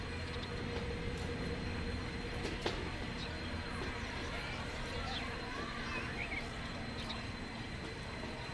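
A full train runs in the simulation game Transport Fever 2. Its steady rumble of rolling wheels and carriages is continuous and moderately loud, with faint squeals and a brief click partway through.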